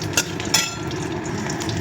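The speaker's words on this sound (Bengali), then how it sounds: "রসুনটা ভাজা ভাজা হয়ে গেছে" Garlic and black cumin seeds fry in oil as a tempering for spinach, a soft steady sizzle close up, broken by a couple of sharp stirring clinks.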